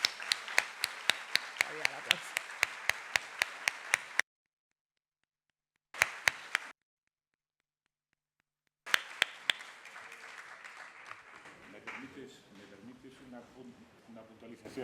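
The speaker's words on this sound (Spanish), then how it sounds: "un aplauso para ellos" Round-table panelists at a historical novel week event in Cartagena receive audience applause, sharp distinct claps in a steady rhythm that cut out briefly, then return more diffusely beneath talk.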